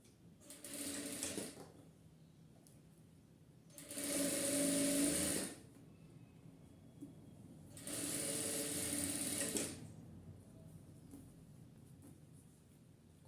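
Sewing machine stitching folded curtain fabric in three separate runs of steady, close, fast-ticking mechanical buzz, with quiet pauses in between and no talking.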